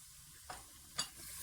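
A spoon scrapes twice through tomatoes and onion paste frying in a pan, two brief quiet strokes over a faint, steady sizzle.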